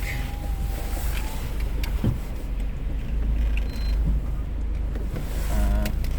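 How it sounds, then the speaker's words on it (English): Parking garage with cars: a steady low engine and traffic rumble fills the space, with a brief thump near two seconds and faint squeaks and creaks toward the end, no voices. "I'm now at the parking garage where I work"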